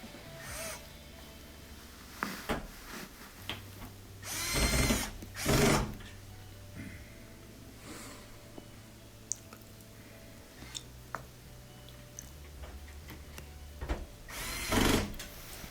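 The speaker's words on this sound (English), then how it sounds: "then we'll add those 2 Phillips head screws" A power screwdriver drives short Phillips head screws into the upper corners of an LG washer's front panel, with several brief whirring bursts separated by quiet handling clicks and taps.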